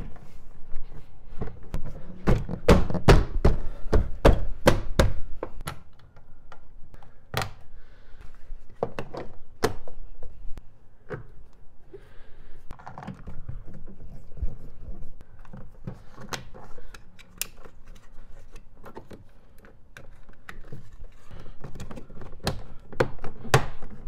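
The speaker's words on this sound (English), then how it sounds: "At this point, we can get the door panel back on." Thunks, taps and clicks from a Toyota Tacoma front door panel being pressed back into place, a dense cluster of sharp knocks early on followed by scattered clicks and softer handling noises at close range.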